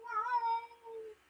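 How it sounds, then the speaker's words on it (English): A house cat meows once at a door, asking to go outside, a single drawn-out, close and clear meow that trails off. "My cat wants to go out."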